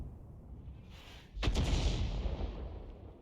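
A GW Panther artillery gun in a video game fires a single round: a sudden loud, deep boom that rolls on with a long rumbling tail over a quiet hum.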